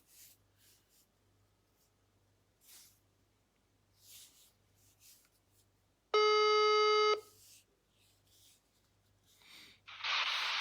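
Telephone ringing for an incoming caller on a French talk show, one loud sustained electronic ring burst of about a second standing out over a quiet background with faint low hum and scattered soft noises.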